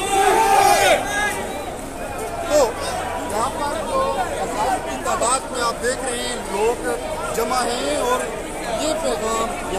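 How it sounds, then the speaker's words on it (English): A large crowd of marching students, tens of thousands strong, with police moving in to control them. Dense crowd chatter and shouting run steadily and loudly throughout, with many voices blending together. "it's a very long march with thousands, tens of thousands of people"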